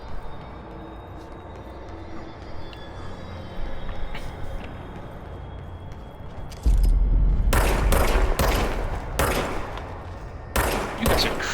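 Service weapon gunfire in the video game Control: a rapid burst of loud, close shots arrives partway through, then a few more separate bursts, after a quieter stretch of ambient game noise.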